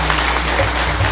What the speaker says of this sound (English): Want more? Clap again.